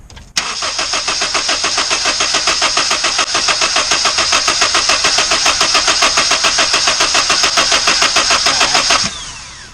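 A 1997–2001 Honda CR-V engine cranks with a rapid, even rhythmic chugging for about nine seconds, loud and close, then stops, during work on a fuel filter replacement.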